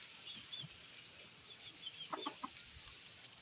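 A straight comb lemon rooster gives a few faint, short clucks around the middle, set against quiet outdoor chirping and a soft high hiss.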